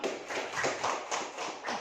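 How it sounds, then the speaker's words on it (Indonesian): Schoolchildren clap their hands together in a classroom, a fast, dense patter of many small claps that pulses in a few waves across the whole stretch at moderate loudness. "Baik, tepuk tangan."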